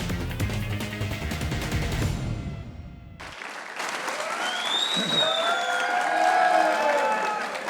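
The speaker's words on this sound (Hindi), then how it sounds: "एक बार सरफराज अहमद के लिए तालियां करेंगे।" Studio audience applause for cricketer Sarfraz Ahmed on a TV show. Music runs first, then broad, steady clapping from the crowd fills the rest of the clip, mixed with sound effects.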